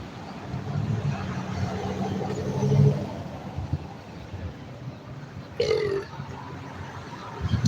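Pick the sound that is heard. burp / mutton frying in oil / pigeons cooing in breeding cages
burp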